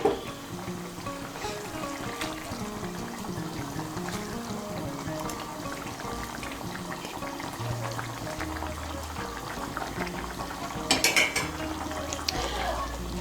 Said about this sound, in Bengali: এখন এর মধ্যে দিয়ে দেবো ভেজে রাখা মাছগুলো।